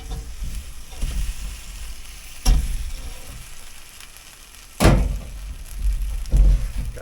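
Char siu pork sizzling on a Ninja Woodfire Grill, a steady close frying crackle broken by a few heavy thunks as the meat is turned and the lid handled.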